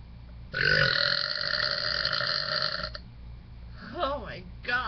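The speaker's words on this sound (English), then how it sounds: "I tried to do like the small hiccup burps for that one person" A long, loud, tonal burp drawn out for about two and a half seconds, then a pause and short wavering vocal noises from a person afterward.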